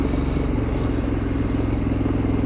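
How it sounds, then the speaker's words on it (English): 2003 Harley-Davidson Fatboy Anniversary Edition motorcycle engine at cruising speed, a continuous low rumbling drone mixed with wind and road noise, steady and fairly loud, with no talk. "got a nice bark to it, but when you're cruising at highway speeds, it's not loud, it's not obtrusive"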